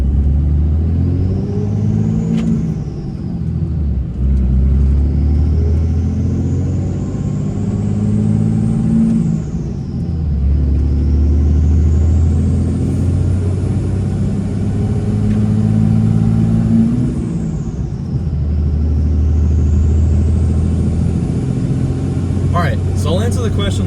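A Third Gen Cummins diesel truck with a G56 manual transmission drives along with a steady engine rumble that rises and drops through gear changes, and someone talks over it throughout.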